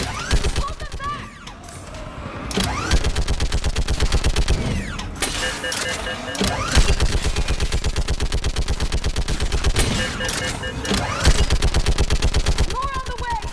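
Sustained automatic gunfire from a battle on Thessia in the video game Mass Effect 3, with dense, loud rapid bursts that barely let up, plus shouted voices in the mix.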